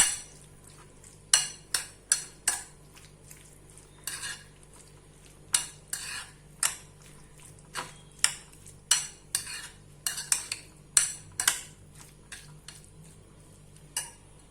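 A spoon mixes paneer filling in a bowl for a paneer tikka sandwich, giving a run of sharp clinks and scrapes in irregular bursts, close and moderately loud, with a faint low hum underneath and no voices.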